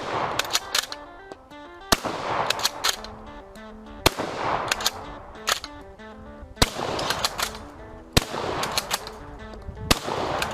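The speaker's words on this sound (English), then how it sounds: "It's a shame that bolt-action shotguns aren't more mainstream." Repeated shotgun blasts from a bolt-action shotgun in a video game, sharp loud shots spaced about two seconds apart, each followed by metallic bolt-cycling clicks and mechanical clatter.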